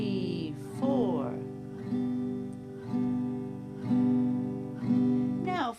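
Acoustic guitar strummed downward once on each beat, five or six even, ringing chords in a steady pulse, close and alone.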